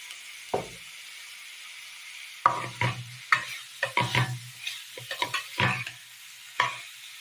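Chopped egg is stirred into a Kerala-style curry pan with a spoon, making a series of close, irregular scraping and tapping strokes with light sizzle between them.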